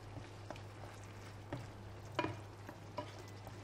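Meat filling with onion and tomato sauce is stirred in a frying pan over a low steady sizzle, with soft scraping strokes recurring every half second or so.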